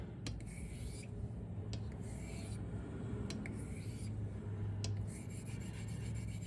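A straight razor, a Filarmonica 14, is honed on a Les Petas coticule whetstone with slurry, making a soft, continuous close rasping rub with faint strokes and no talking.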